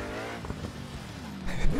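A racing car's engine revs in a video game, a steady droning whine that climbs in pitch near the end with a brief squeal-like rise.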